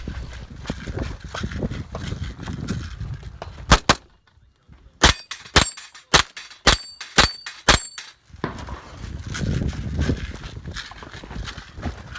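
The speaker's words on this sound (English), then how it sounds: "There are 3 steel in this last position. Now I transition to my pistol caliber carbine." Pistol caliber carbine fired at steel targets during a 3-gun match in the high desert, a rapid series of about eight sharp shots, several followed by ringing metallic pings from hits on steel, between stretches of outdoor noise.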